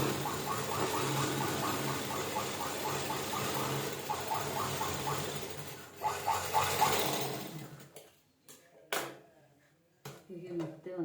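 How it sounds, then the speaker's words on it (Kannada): A sewing machine stitches blouse lining and fabric together along the border, running steadily for several seconds before stopping, followed by short intermittent bursts and clicks. "ಹೀಗೆ ಪುನಃ ಬಾರ್ಡರ್ ಮೇಲೆ ತಿರುಗಿ ಹೊಲಿಗೆ ಹಾಕಬೇಕು"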